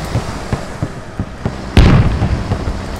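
A tank cannon fires in the military shooter game Squad: one heavy, close boom with a long rumbling tail, preceded and followed by scattered lighter gunshot pops.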